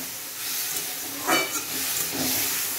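Spices frying in a pan with a little water added, giving a soft, steady hiss and sizzle with a couple of brief louder bursts, fairly quiet and without talk.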